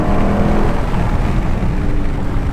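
A 2017 Dodge Daytona 392 roars hard through a wheelspinning 0-60 launch, its engine loud and sustained with tire spin blending into a dense, rumbling blast for the whole short burst.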